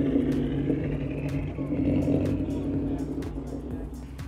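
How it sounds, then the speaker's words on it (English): A Subaru's engine rumbles steadily at a car meet, a low, loud, continuous idle-like drone with faint background crowd noise and a few sharp clicks, with no clear speech. "Subaru here, sounds amazing."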